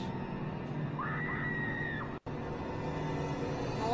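A single drawn-out scream rings out in the horror game I Saw Black Clouds, rising over a constant low background hum, lasting about a second before fading, followed shortly by a brief dropout.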